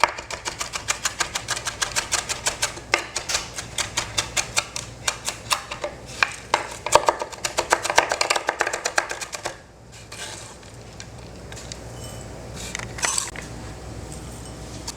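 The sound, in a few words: knife chopping garlic finely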